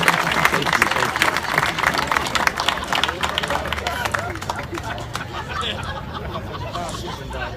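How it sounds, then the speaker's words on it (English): Audience applause at a state senator's swearing-in ceremony, a sustained wash of clapping and crowd noise that is strongest at the start and gradually thins, with murmuring voices underneath. "Please give Charlie Brown a round of applause."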